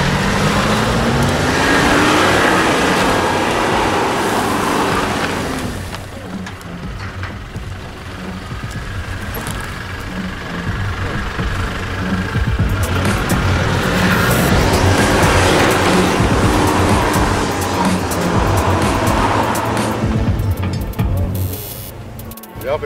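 A Toyota Prado 150 SUV climbs an off-road hill, its engine droning and straining steadily under load with wind and rumble, and people talk inside over the engine noise.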